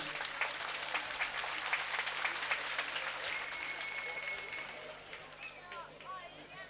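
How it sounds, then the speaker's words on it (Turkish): Crowd applause for head wrestlers at an oil-wrestling final in Kavaklıdere, a faint, distant wash of clapping with a loudspeaker voice and crowd murmur mixed in. "Baş pehlivanlarımıza şöyle kocaman bir moral alkışı istiyoruz."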